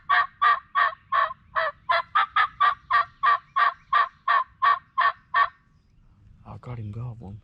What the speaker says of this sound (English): I've got him gobbling here and there.